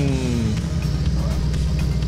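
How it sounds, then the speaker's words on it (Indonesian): A car engine runs in the Car For Sale Simulator 2023 video game, a low steady rumble with a brief falling whine early on. "Mobilnya bunyinya serem banget."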